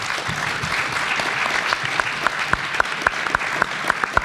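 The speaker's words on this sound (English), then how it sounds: "I wish Manny were here to hear the applause" Audience applause thanking panelists at the close of a political panel session, a continuous roomful of clapping with a few sharper, louder claps standing out near the end.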